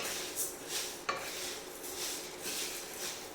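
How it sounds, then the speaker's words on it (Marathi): Whole urad lentils dry roasting and being stirred in a pan over low heat, a soft continuous rasping scrape with light metallic clinks and one sharp tap, fairly quiet. "मंद गॅसवर आपण हे उडीद भाजून घ्यायचे"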